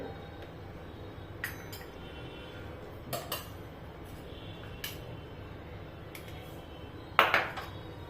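A spoon clinks sharply against a bowl while milk is stirred into cocoa, a few scattered light taps over a quiet background, ending in a brighter cluster of clinks.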